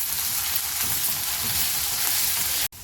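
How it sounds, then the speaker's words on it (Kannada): Garlic, green chillies and finely chopped ginger frying in a pan, a steady dense sizzle that holds constant throughout, close and loud with no voices, cutting off briefly near the end. "ಇದನ್ನು ಸ್ವಲ್ಪ ಈ ಥರ ಫ್ರೈ ಮಾಡ್ಕೊಳ್ಳೋಣ"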